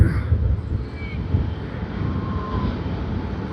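A China Southern Airlines Airbus A350-900 airliner from Guangzhou at Sydney Airport gives a steady, broad engine roar that holds at one level throughout, with some wind rumble mixed in.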